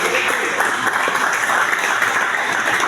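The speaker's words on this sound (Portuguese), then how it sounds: "Pode se sentar e as palmas para Jesus." A church congregation applauds in a steady, loud, dense round of clapping that fills the room from start to finish.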